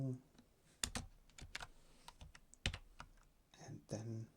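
Keys clack on a computer keyboard in a retro BASIC emulator, with scattered close, crisp keystrokes arriving in short bursts and soft speech heard between them.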